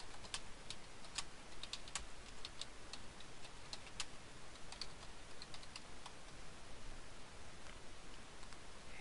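A search query typed on a computer keyboard, crisp individual key clicks in irregular bursts and pauses, close and moderately quiet over faint background hiss.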